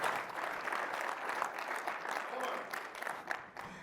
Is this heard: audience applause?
yes